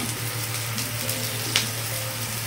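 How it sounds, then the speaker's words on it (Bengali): Onion and garlic frying together in a pan for a Bengali rohu fish curry with eggplant, a steady close sizzle with faint stirring clicks and no talking. "দিয়ে পেঁয়াজ রসুন একসঙ্গে আমি ভালো করে ভেজে নিচ্ছি"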